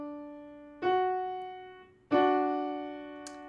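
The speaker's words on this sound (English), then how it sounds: "So a major third going up sounds like this." A major third played ascending for voice musicianship practice: two clear, sustained pitched tones, the lower one struck first and the higher one about a second later, each ringing out and slowly decaying, with no talking.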